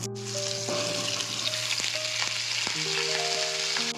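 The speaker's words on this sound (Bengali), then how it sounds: "এবারে তেলটা গরম হয়ে গেছে আলুগুলো দিয়ে দেবো" Potatoes fry in hot oil in a wok with a continuous bright sizzle, close and even, over a faint steady tonal hum, with no one speaking.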